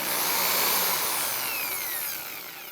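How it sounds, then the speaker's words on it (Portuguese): A cordless screwdriver whirs at high speed, close and fairly loud, its motor pitch sliding downward as it spins down over a couple of seconds, with no voices. "Para isso, eu vou usar uma parafusadeira."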